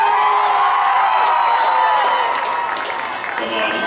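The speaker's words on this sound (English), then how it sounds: "And let's get the biggest round for these kids who are participating in today's Super Bowl." Cheering crowd at a youth 10U football Super Bowl applauds the young players, loud clapping mixed with whoops and children's shouts, sustained then easing a little near the end.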